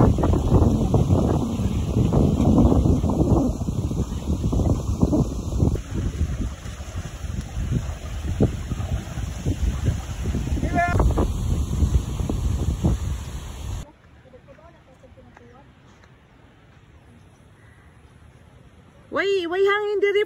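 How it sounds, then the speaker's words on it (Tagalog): Wind buffets the microphone at a secret beach in Siargao, a loud rushing roar for most of the stretch that drops out near the end, with people chatting over it. "Why hangin diri friend?"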